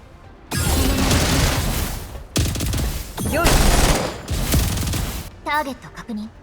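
Rapid bursts of automatic gunfire from the Vector in the shooter game GFL2 Gunsmoke Frontline, several loud volleys separated by brief gaps, with a voice briefly heard near the end.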